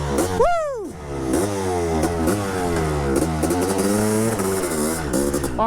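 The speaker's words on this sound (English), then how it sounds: "I'm riding an RC500, man." A Honda RC500 factory two-stroke motorcycle being ridden, its engine shrieking up through sharp revs and then holding a buzzy, rising and falling drone, loud and close throughout with no talking.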